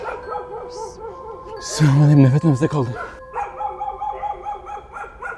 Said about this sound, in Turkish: Köpekler zaten havlıyor.